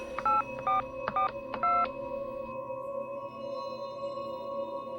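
Phone keypad tones ring out as a number is dialed, four quick beeps in a brisk, close and clear sequence, followed by a steady ringing tone with a faint hum behind it.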